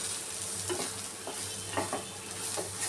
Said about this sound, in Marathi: आता हे आपण परतून घेऊया